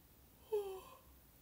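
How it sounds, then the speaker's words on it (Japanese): A woman gives a single short yawn, a soft breathy rise with a brief voiced tone lasting about half a second, close and quiet against a near-silent background. "やばい、あくび出そう。"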